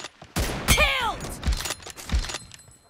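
A sniper rifle shot in a video game, one sharp crack with a ringing, descending tail, followed by a few duller impact thumps.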